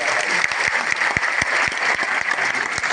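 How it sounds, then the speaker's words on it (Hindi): Teachers at a provisional certificate distribution ceremony in an auditorium in Bettiah, West Champaran, applaud their guests: a dense, steady wash of many hands clapping with a few sharper individual claps, sustained and fairly loud throughout. "तो एक बार अतिथियों के लिए ताली बजाना तो आपका फर्ज बनता है।"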